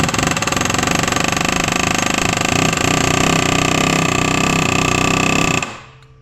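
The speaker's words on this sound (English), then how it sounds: "so I got the air hammer out" An air hammer pounds on a motorcycle wheel drive in a fast, loud, continuous rattling burst lasting several seconds before stopping abruptly and leaving a short fading tail.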